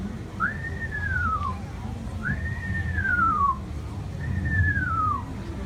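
Three clear whistled notes, each rising then sliding down in a short whinny-like glide, repeated at steady intervals over a low background rumble; a person imitating a screech owl call.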